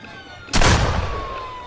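A single gunshot in Friday the 13th: The Game, one loud close blast that rings out and slowly decays after a quiet lead-in.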